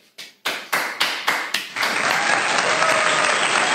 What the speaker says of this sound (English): Everyone give a big round of applause to Porsche.